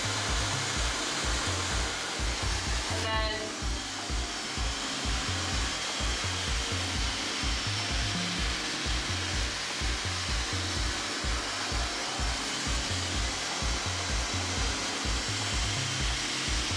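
Hair dryer fitted with a concentrator nozzle, running on its lowest heat and air settings, gives a continuous close whirring hum with a pulsing low drone throughout, without any speech.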